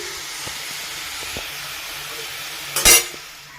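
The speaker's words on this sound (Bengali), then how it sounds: "এখন এটাকে লাল লাল করে ভেজে নেব" Steady sizzling hiss of potatoes deep-frying in hot oil until browned, with a brief louder crackling surge near the end and faint low clatter underneath.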